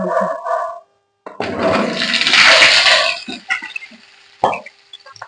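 Washed small potatoes drop into hot oil in a wok, setting off a loud, bursting sizzle that rises sharply after a brief pause, then crackles and fades into scattered pops.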